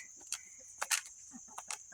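Backyard chickens, one of them molting, give a few soft, brief clucks spaced apart, faint and close with no talk.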